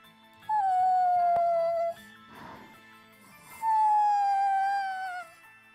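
A dog in the video game Bravely Default 2 gives two long, drawn-out howls that fall slightly in pitch, each about a second and a half, with a soft whimper between them over a quiet game music bed.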